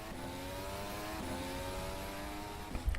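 An F1 car's engine holds a steady, whining pitch as it pulls out of the pit lane in an F1 racing game, a continuous close drone with a faint knock near the end.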